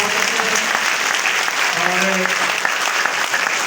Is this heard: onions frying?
no